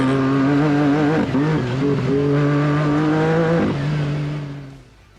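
Off-road race car driven by PJ Jones in the NORRA Baja rally, engine loud and close with wavering revs and gear changes, then fading out at the end.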